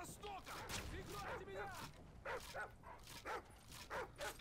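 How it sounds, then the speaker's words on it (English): Dogs in Modern Warfare 3 survival mode bark, yip and whimper again and again. The sounds are fairly faint, mixed with other game noise and a voice talking over them. "Those dogs don't die. Those dogs are like invincible."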